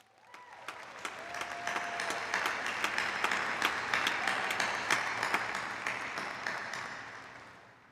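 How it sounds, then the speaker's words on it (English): Audience applause at a Clemson University spring graduation ceremony: a large crowd claps steadily, swelling to a dense, loud roar of hands in a big hall before slowly tapering off. "I think you all deserve a very loud round of applause."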